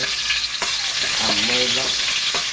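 Onions sautéing in a pan for a Filipino chicken pinichayan dish, giving a steady, close sizzle with stirring and scraping. A short tonal clatter rises midway. There is no talk.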